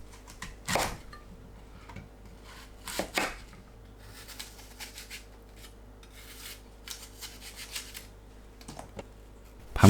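A knife slices chestnuts flat on a cutting board in a home kitchen, a few sharp close chops between soft scraping and rustling, no speech.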